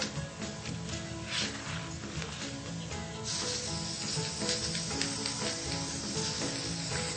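Iridescent spray paint hisses from a can onto paper in several bursts, close and moderately loud, one longer steady spray in the second half.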